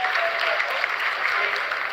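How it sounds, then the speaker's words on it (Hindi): Loud, dense applause fills a mission control room during a lunar lander's vertical descent, continuous throughout with a faint tone and murmured voices underneath. "Lot of applause indicates that till now the performance has been nominal."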